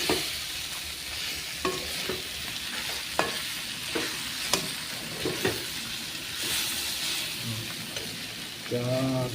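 Tomatoes fry in a hot pan with a steady sizzle, broken by repeated sharp clinks and scrapes of a spoon stirring, and a short burst of louder sizzling near the end.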